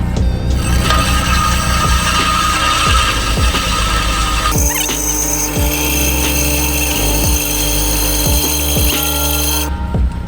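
Power tool cutting through the center of a weld on a barrel, a loud close grinding whine that shifts pitch midway and keeps a rhythmic chattering pulse, no voices.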